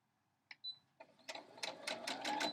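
A sewing machine stitches quilt pieces for a Double Friendship Star quilt block at a quarter-inch seam, starting off a leader scrap: a sharp click and short whine, then a close, steady run of rapid needle thumps that builds in speed, with no talking.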